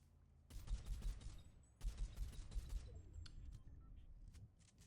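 Rapid bursts of gunfire in a Fortnite match, two clustered volleys of sharp shots followed by scattered fainter pops, with a quiet background and no talk.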